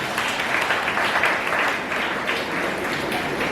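A crowd applauds steadily at a candle lighting ceremony for disciplined students, the dense clapping filling the room evenly from start to finish without any voices on top.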